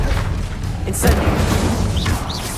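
A fire spell cast in the wizarding video game Hogwarts Legacy: a sharp burst with a bright whoosh around the one-second mark, over a steady bed of game ambience and low rumble, with smaller flickers after it.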